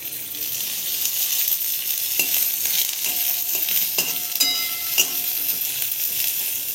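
Oil sizzling in a pan for spicy shev bhaji, a loud continuous frying hiss close by, broken by occasional crackles and light stirring taps, with no voices.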